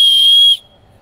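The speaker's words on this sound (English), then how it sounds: "That's a whistle." A top-rated plastic whistle bought online gives one loud, sharp, piercing blast close by, held steady for about half a second before cutting off.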